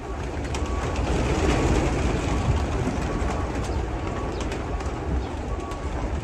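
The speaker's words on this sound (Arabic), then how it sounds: "ادينا اهو في المزرعة، حمام اهو" Domestic pigeons coo softly on a pigeon farm amid steady outdoor rumble and noise, with scattered clicks and no talking.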